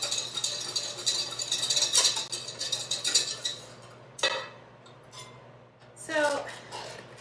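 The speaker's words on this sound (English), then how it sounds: "a stick and a half of butter is going to be good. That's for sure. All right, keep whisking" A whisk rattles and clinks against a bowl while hollandaise is beaten with a stick and a half of butter for eggs benedict, quick rapid ticking strokes close by, with a few louder clanks.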